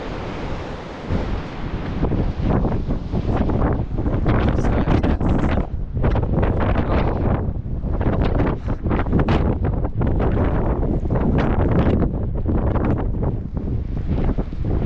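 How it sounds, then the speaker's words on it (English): Strong gusting coastal wind near Tintagel, Boscastle and Bude in Cornwall buffets the microphone in loud, roaring bursts that rise and fall continuously. "Very windy."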